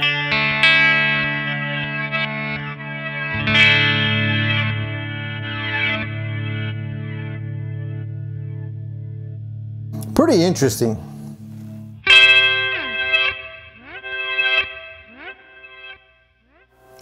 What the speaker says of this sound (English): So you can hear how it sounds like it's almost in reverse.